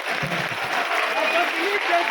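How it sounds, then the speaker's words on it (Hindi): An audience claps at a BJP political rally, producing a dense, steady wash of applause that stays loud for the whole brief stretch, with a voice faintly under it. "जोरदार तालियां बजती रहे"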